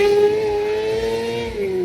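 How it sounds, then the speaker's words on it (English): Motorcycle-engined buggy race car at a Saudi time attack event revving with a sustained, bright, high-pitched engine whine that slides slightly downward, loud and close. "That's a little bike-powered buggy thing."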